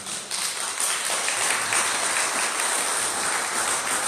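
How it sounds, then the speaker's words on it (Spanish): A church congregation claps together during a Sunday gospel celebration, a dense, even wash of clapping that stays steady and fills the room for about four seconds. "Vamos a aplaudir a Dios y a lo que creemos."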